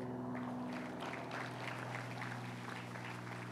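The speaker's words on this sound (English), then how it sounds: "Round of applause for Rex." Crowd applause at a university new-building grand opening, a steady dense wash of clapping held evenly for several seconds over a low hum.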